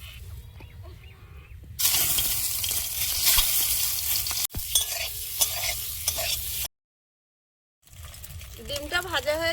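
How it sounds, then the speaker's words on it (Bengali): An egg fries in a little oil in a wok, loud crackling sizzle with stirring scrapes, broken by a short silence and followed by a quieter stretch with a voice over it. "ডিমটা ভাজা হয়েছে, তুলে নেব।"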